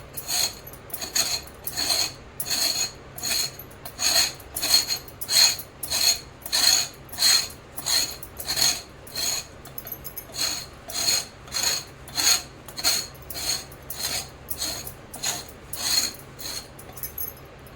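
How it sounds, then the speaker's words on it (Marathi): A glass rim scrapes the ridges off a ridge gourd in quick back-and-forth strokes, about two dozen raspy rhythmic scrapes, close and crisp, pausing briefly midway. "मी तुम्हाला ग्लासाच्या सहाय्याने ह्या शिरा काढून दाखवत आहे"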